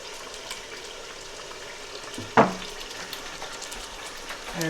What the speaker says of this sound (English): So I'll add about half a cup of milk to this.